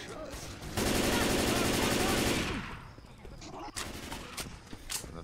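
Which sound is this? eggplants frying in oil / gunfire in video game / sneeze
gunfire in video game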